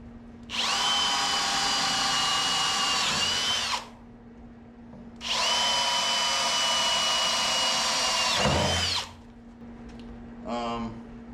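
A power drill bores starter holes for mounting a vise on a wooden fab table, two long steady whirring runs of several seconds each, loud and close, followed by a brief short burst; no talk over it.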